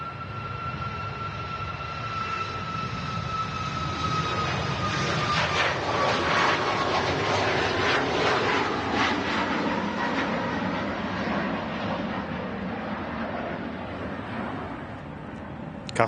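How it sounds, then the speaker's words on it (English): A TUI Boeing 737 MAX 8 with LEAP-1B engines taxis out at Manchester Airport, its steady engine roar layered with high whistling tones that glide slowly downward, loud and close throughout with no speech. "There's the Max 8 heading out next in TUI. Leap 1 Bravo engines whistling along."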